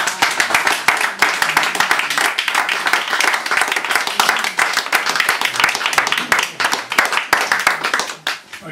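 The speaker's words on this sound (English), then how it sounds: "so more applause please for Richard Scott" An audience applauds after a poetry reading, with dense, sustained clapping from many hands filling the room for several seconds before beginning to thin out at the end.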